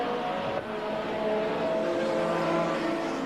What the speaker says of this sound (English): So it's front-wheel drive Vauxhall versus rear-wheel drive BMW.